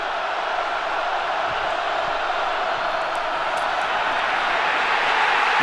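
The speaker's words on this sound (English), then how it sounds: "the crowd is roaring loud" A football stadium crowd at a Kansas at Nebraska college game roars in a steady, dense wall of sound, loud and sustained throughout with no breaks.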